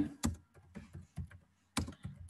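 Keys on a computer keyboard are tapped in a quick, irregular string of close, crisp clicks, with a few short pauses between bursts of typing.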